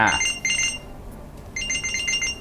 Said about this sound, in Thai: ส่งเสียงได้นาฬิกาของเราก็จะส่งเสียงออกมา